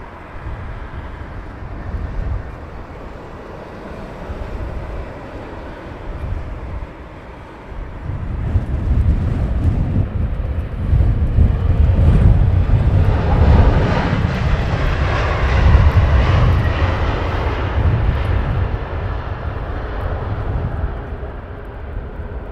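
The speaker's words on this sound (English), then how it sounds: "Virgin Dreamliner." A Virgin Atlantic Boeing Dreamliner airliner at Heathrow Airport roars with a broad, steady engine rumble that swells louder after a few seconds and stays sustained and close, with no talk.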